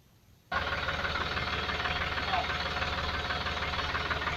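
A tractor engine runs steadily and loudly while its plough is lifted, starting abruptly after a brief quiet moment and holding a dense, continuous drone throughout.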